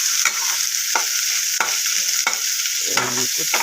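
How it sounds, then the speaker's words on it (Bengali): Onion with chili, salt and turmeric stirred in a hot pan: loud continuous sizzle with several sharp scrapes of a spatula at roughly even intervals, ending in a brief clatter, close up. "এবার নেড়ে নিই"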